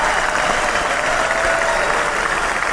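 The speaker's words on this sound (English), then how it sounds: "Let's round of applause for Tim" Studio applause for a guest on a sports broadcast show, a continuous, even wash of clapping at steady loudness, with no voices over it.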